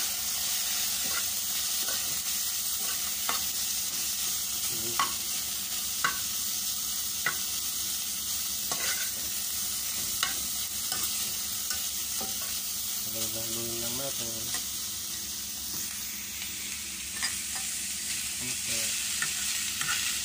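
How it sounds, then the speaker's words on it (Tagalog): Pork sizzles steadily in a hot pan for a Filipino vegetable dish, with a constant frying hiss and repeated soft scrapes and clinks of stirring, close and alone with no talk. "Ngayon, lagyan natin itong baboy. May kasama sa gisa."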